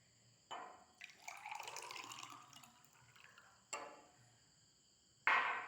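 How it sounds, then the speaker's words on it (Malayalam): Blue flower tea pours into a cup with a soft, close liquid stream that rises in pitch as the cup fills. A short splash follows, then another brief pour near the end, in a quiet room with no voices. "അപ്പോഴേ ഇത് ഞാൻ ഒഴിച്ച് നിങ്ങൾക്ക് കാണിച്ചു തരാം."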